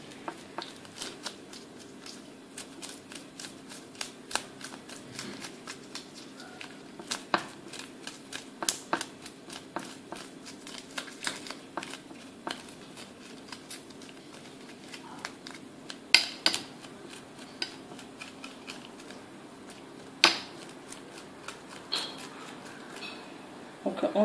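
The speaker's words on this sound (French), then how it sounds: "On va d'abord écailler et donc vider les sardines. Donc avec un couteau. On enlève bien toutes les écailles." Knife scraping scales off sardines, heard as a long run of small scratchy clicks and taps close by at a quiet level, irregular with occasional sharper knocks, no voice present.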